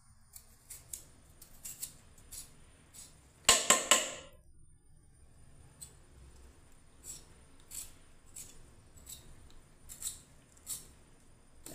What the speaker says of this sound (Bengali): খোসাগুলো একটুখানি ছাড়িয়ে নিচ্ছি আমি।